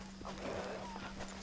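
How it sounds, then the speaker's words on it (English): A horse in the Red Dead Redemption video game snorts and shuffles at camp amid low game ambience and a steady hum, close and continuous with no speech. "I need to hitch my horse."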